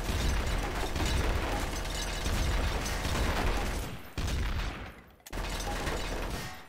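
Gunfire in Garry's Mod Trouble in Terrorist Town: a dense, continuous rattle of rapid shots with clattering mechanical noise, briefly breaking off twice before resuming loud.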